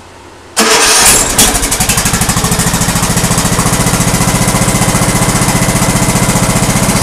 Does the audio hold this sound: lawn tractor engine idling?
yes